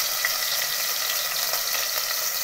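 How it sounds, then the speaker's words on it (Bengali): Ginger garlic paste frying in a pan, a steady loud hiss and crackle of sizzling that continues unbroken before cutting off abruptly, with no talk. "কড়াতে আদা রসুন পেস্টটা দিয়ে একটু নাড়াচাড়া করে"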